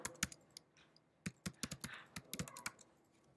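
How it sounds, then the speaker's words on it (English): Keystrokes on a computer keyboard while entering a web address into a browser, with a few scattered clicks, a pause, then a quicker run of typing, close and fairly quiet. "But just simply type it into your browser."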